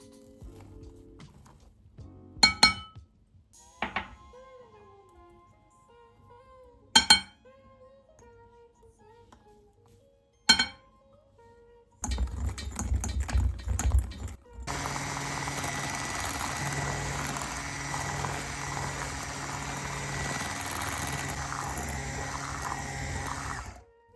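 Cake batter of yogurt, oil and gluten-free flour with baking powder and vanilla being whisked: a steady, loud whirring churn that starts after about twelve seconds of scattered clinks and taps, then runs continuously to the end.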